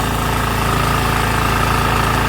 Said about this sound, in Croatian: Agregat radi, sve radi.